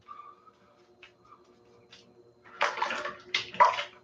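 Water splashes and sloshes in a sink as a face is washed after a shave, a few quiet drips at first, then two louder bursts of splashing close by.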